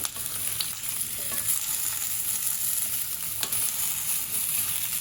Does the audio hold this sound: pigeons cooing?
no